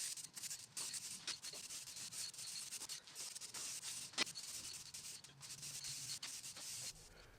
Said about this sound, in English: Now it needs to be deburred, rounded over, and nice and cleaned up a little bit.